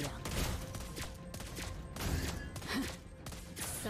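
Repeated gunshots from the hero Lesley in the mobile game Mobile Legends, a steady series of loud bursts over busy in-game sound effects.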